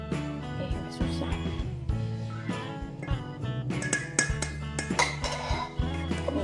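A utensil mixes cake batter with an egg in a bowl, giving a busy run of clinks and scrapes against the bowl at close range.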